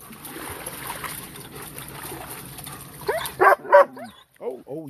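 Pet dogs at play give a few short, sharp barks and yips near the end, following a stretch of low background rumble, close and fairly loud.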